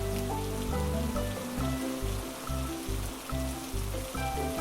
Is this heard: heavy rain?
yes